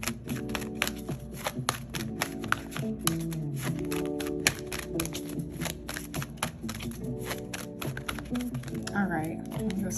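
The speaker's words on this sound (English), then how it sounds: "I'm just going to go ahead and shuffle and then just pull from the top." A deck of cards shuffled by hand, a rapid, steady riffling and flicking that runs throughout at close range, with a background hum underneath.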